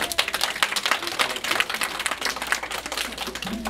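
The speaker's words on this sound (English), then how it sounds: "can we give a round of applause to Mr." A small library-program audience gives a round of applause for a guest, with close, sharp, somewhat uneven claps that sound crisp and sparse rather than like a large crowd.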